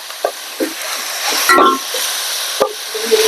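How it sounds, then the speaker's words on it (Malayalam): Chopped ginger and garlic dropped into a hot cooking pan sizzle with a steady, close frying hiss, broken by a few soft stirring clacks and spatters. "അപ്പൊ നമുക്ക് ഇനി ഇഞ്ചിയും വെളുത്തുള്ളി ഇട്ട് കൊടുക്കാം"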